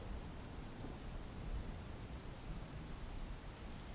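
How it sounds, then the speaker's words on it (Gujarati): Steady, dense rain pours down in Gujarat, a continuous even hiss with no pauses and no voices. "ક્યાંક ધોધમાર તો ક્યાંક ધીમી ધારે વરસાદ જોવા મળ્યો"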